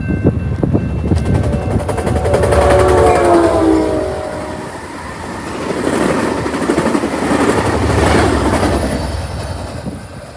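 A train locomotive, single with a second engine at the rear, passes the Knightson Ave level crossing on a windy day. A loud horn sounds while the train rolls by with heavy, rumbling wheel noise that swells and fades.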